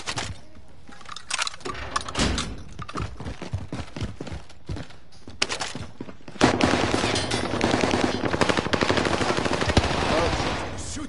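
Rapid video game gunfire, bursts of automatic shots crackling through the first half, then a dense, louder stretch of continuous fire and action noise, with brief speech mixed in.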